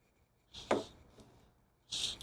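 Garlic is scraped across a grater in a few short, quiet rasping strokes, separated by pauses, close up with no talk.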